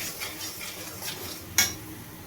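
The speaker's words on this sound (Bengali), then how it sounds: "এবার আমি মশলাটাকে ভালোভাবে কষিয়ে নেব।" A ginger spice paste for an omelette curry is stirred in a pan, giving soft, faint scraping strokes with a light sizzle beneath and one sharper metallic clink near the end.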